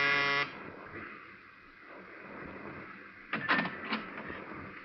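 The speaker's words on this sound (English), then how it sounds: "but I pushed the buzzer anyway" An apartment door buzzer in an old-time radio drama gives one sharp electric buzz, then fades into quiet room tone before a few muffled clunks and rattles follow.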